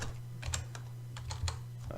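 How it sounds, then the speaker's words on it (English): Keys clatter on a computer keyboard in quick, uneven taps, close and fairly quiet over a low steady hum, with no talking. "see if I can type here, string.trim."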